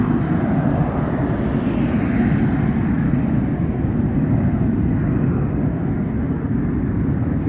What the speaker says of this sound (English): One taking off right there.